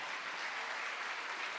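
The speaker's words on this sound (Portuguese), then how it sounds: "Uma salva de palmas para nossa..." Applause from the audience at a hypnosis magic show, a steady dense wash of clapping that fills the short moment without a break, fairly faint and even.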